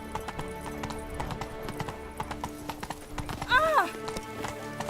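A horse in Witcher 3 trots with rhythmic clip-clopping hooves at close range, then gives a short whinny near the end, while a voice speaks over the hoofbeats.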